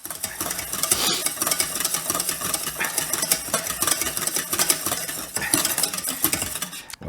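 Béarnaise sauce being whisked in a saucepan, with a steady scraping, clinking rhythm of whisk against metal that carries on without pause for about seven seconds, close and fairly loud.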